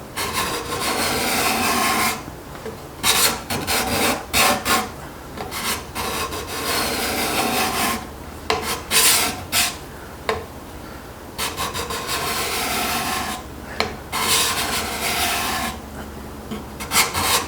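Card scraper sharpened with an Accu-Burr rasping across a wood surface, taking shavings in a run of close, loud, rhythmic scraping strokes with short gaps between them and no voices.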